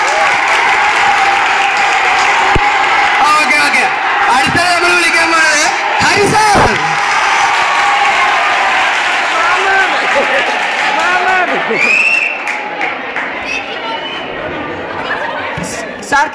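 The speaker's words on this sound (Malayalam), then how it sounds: "എല്ലാവരും ഒന്നും കൈയടിച്ച്" Audience applause fills a Christmas and New Year celebration, sustained clapping mixed with crowd chatter and scattered voices, thinning out toward the end.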